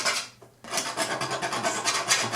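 Oil paint scraped across a canvas during a still-life brick study, a continuous dry rasping rub that pauses briefly near the start, then runs on steadily and close with no talk.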